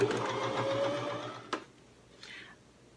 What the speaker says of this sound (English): I'm going about a 1/2 inch seam, giving it a good back tack.